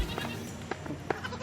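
Goats in a herd bleat in short, faint bursts, several scattered calls over a quiet outdoor background.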